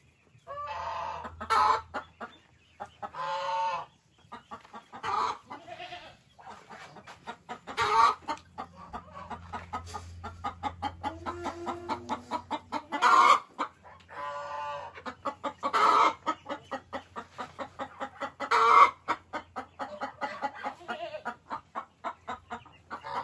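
A rooster clucks in repeated rhythmic bursts, close and fairly loud, with short pauses between runs of clucks.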